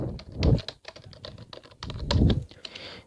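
Typing on a computer keyboard, a quick irregular patter of close, crisp key clicks with a few heavier strokes.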